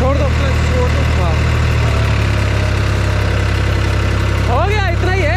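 A tractor engine shifted into third gear rumbles loudly and steadily, revving under a man's spoken instructions, with a rising whine near the end.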